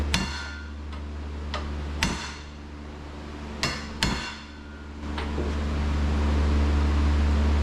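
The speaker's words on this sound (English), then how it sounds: "This I can't tell, so I just hit them and kind of go back and forth till the U-joint moves good." Hammer blows driving a U-joint into an axle yoke during an axle swap, four sharp metallic strikes spaced irregularly over a steady background hum, close and loud.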